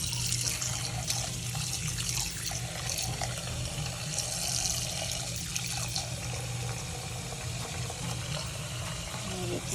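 Tap water runs steadily into a sink while raw shrimp are rinsed after a vinegar wash, a continuous close splashing stream that persists throughout with faint talk beneath it.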